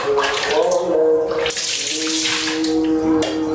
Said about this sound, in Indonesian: Anak ganteng lagi mandi.